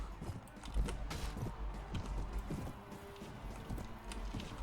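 Horses galloping in the medieval combat game Mount and Blade: Warband, a steady rumble of hoof clip-clop with scattered thuds and battle noise throughout, fairly loud and continuous.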